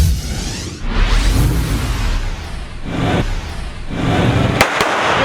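Fireworks and firecrackers bursting in a rapid run of loud cracks and booms, with whooshing rockets rising between the blasts and no voices.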